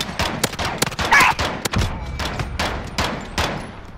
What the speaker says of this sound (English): I kind of like this pistol, this variant, because it's the 50 caliber pistol